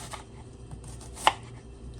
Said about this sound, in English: just chop up your onions, just dice them